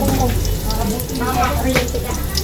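Garlic and onion sizzle loudly in a pan, a dense close frying hiss with faint stirring, while people talk over it.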